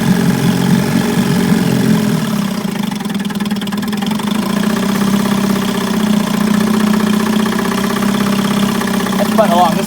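A 1956 Sea King 5 outboard motor runs steadily and loudly nearby, with a low, throbbing, slightly knocking engine tone that continues for the whole stretch.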